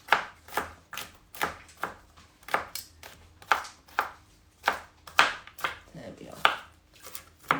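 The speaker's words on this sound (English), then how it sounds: "I'm just going to chop them very roughly." Roasted peppers are chopped roughly with a knife on a board, making about fifteen crisp, evenly spaced chops close to the microphone, with no talking.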